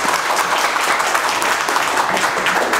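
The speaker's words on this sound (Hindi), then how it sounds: "एक बार एमडी सर से ताली बजा देंगे।" A class of students in a mobile repair training session gives a burst of loud, dense applause, continuous clapping from a room full of people lasting a few seconds.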